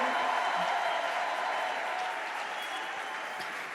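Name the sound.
audience applauding and cheering at a church event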